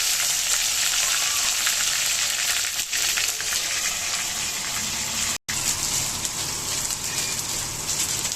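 Garlic and tomatoes fry hard in a hot pan, giving a loud, continuous hiss and crackle close by, broken by one very brief dropout.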